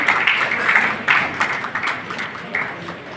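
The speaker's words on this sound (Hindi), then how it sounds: "तो जोरदार तालियों से भाई विक्रम के लिए भी हम तालियां बजाएं।" A crowd at an award ceremony marking Bikaner's foundation day applauds, a steady wash of many hands clapping with small swells, fairly close and without speech over it.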